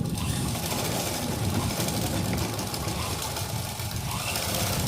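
A sewing machine runs steadily while stitching a suit sleeve, its motor whirring in a continuous, dense drone with fine rapid ticking throughout, close and loud.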